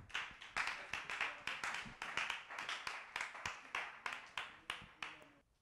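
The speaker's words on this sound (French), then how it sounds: "on peut les applaudir bien fort et bon spectacle à tous." Before a dance performance, an audience claps in a fairly quiet, rhythmic pattern, with sharp hand-claps arriving in regular bursts for several seconds.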